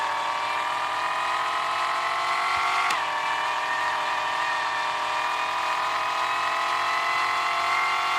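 A car engine, newly fitted as a costly upgrade in a Car Parking Multiplayer–style driving game, revs at steady high pitch with a slight rise and fall, loud and continuous throughout with no talk.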